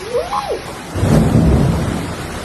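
Violent thunderstorm with very hard rain and hail striking a stadium roof, a broad roaring wash of rain and rumble swelling after the first second, loud and continuous.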